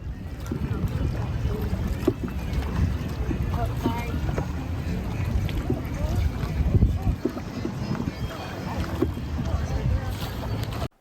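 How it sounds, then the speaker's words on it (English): Canoes paddle across water on the Disneyland canoe ride, with soft splashing and wind rumble beneath people talking nearby. "But yes, Disneyland still has the canoes."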